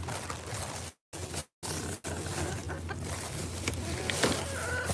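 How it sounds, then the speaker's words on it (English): Chickens cluck softly and steadily nearby while pecking at scraps of foam, their low calls running on outdoors with a couple of short dropouts. "Chickens like to eat foam."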